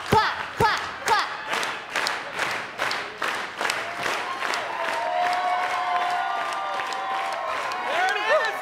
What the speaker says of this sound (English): let's get a clap going out there